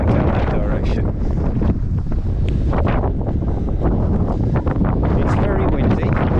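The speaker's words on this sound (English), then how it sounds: "It's very windy" Strong wind on a rocky Lake District fell buffets the microphone in a constant loud roar, with a voice speaking underneath the gusts.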